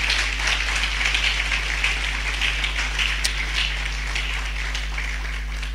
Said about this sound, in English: Kissi Agyebeng, the special prosecutor, deserves another round of applause from us